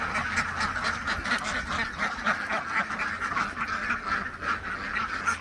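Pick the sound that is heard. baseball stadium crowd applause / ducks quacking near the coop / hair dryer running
ducks quacking near the coop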